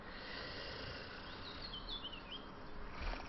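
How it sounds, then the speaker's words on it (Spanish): Birds chirp in the Western shooter game Call of Juarez Gunslinger, a few faint, brief high tweets over a low ambient hiss. "Pajaritos en mis oídos."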